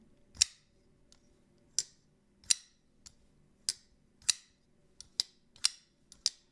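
A titanium Koenig Arius flipper pocketknife snapping open and shut, giving about ten sharp, crisp metallic clicks in an irregular rhythm, close and distinct over a quiet background with no talking.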